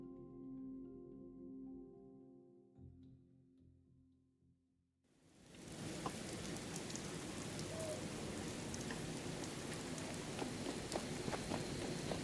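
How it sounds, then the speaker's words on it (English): Rain in Fallout 76, a quiet scene with faint tones that abruptly gives way to a steady dense hiss of rainfall on surfaces, continuous and fairly close, with no talk. "Well, it's nice and rainy."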